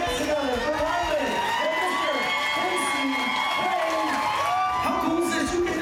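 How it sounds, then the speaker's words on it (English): A large crowd cheers, whoops and shouts, children among them, loud and steady throughout as two people take the stage together in the Chevy tent at a NASCAR fan event with driver Kasey Kahne. "Then they take the stage together at the Chevy tent as the crowd cheers."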